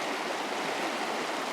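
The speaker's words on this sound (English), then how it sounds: "this creek is snowmelt runoff" Snowmelt runoff creek rushing steadily, a continuous broadband wash of flowing water, moderately close and even, with no voices.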